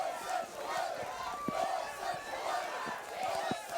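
Crowd at a college ultimate frisbee semifinal between Pittsburgh and Minnesota roaring in waves, echoing across the stadium, with footfalls and shouts mixed in and a commentator's voice underneath.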